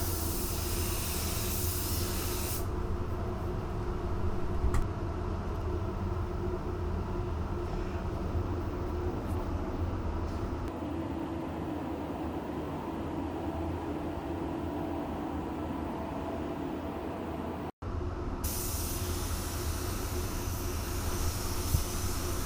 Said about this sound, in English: We are using the Segola 4600 here, and as you can see, we are bringing our base coat to cover all of our sealer